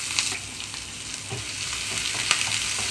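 Curry leaves, sliced onions and green chilies fry in hot oil for a capsicum egg bhurji, making a continuous close sizzle with a few light stirring clicks and no speech.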